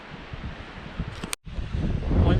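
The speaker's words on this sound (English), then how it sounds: "It's crazy windy" Strong wind gusting across an open mountain summit in New Hampshire's White Mountains, a steady roar that buffets the microphone, drops out briefly near the middle, then builds louder toward the end; no talking.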